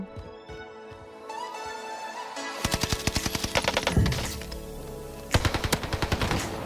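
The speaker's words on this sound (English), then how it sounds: "Alright, this Owen gun is hitting, dude." Rapid bursts of automatic fire from an Owen gun in the Warzone video game, loud and close, with dense repeated shots in two main volleys over a game soundscape.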